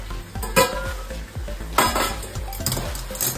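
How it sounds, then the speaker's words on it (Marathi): A metal lid comes off a pot of sabudana khichdi with a couple of close clanks and scrapes of cookware, then quieter clinks. "आपण झाकण काढून घेऊया"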